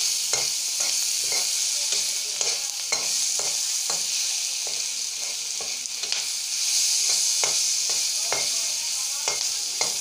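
Ginger-garlic paste frying in a pan for a jackfruit seed curry, with a constant bright sizzle broken by regular scraping strokes of a spoon as it is stirred, close by and without speech.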